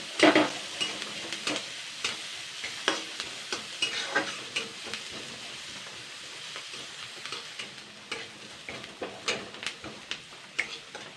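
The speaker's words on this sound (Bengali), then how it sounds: "এখন রসুন আর পেঁয়াজটা সুন্দর করে ভেজে নেব" Crushed garlic and onion fry in a pan for a Bengali chal kumra leaf bhorta, crackling and sizzling while a spatula scrapes and stirs in quick irregular strokes, close and steady with no talk.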